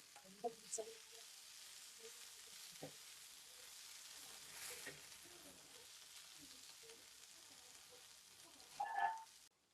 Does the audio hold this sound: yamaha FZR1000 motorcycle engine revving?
no